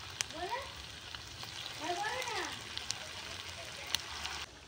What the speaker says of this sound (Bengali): তেলটা গরম হয়ে গেছে, তেলের মধ্যে স্ন্যাক্সগুলো আমি দিয়ে ভেজে নেব।